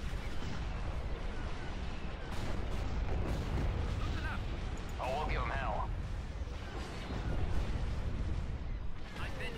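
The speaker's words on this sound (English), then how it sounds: "take down those shields and then hit them with the fat cannon" Cannon fire and explosions rumble through a space battle in the Star Wars strategy game Empire at War, a dense continuous barrage of booms under steady talk, with a few sweeping laser-like tones mid-way.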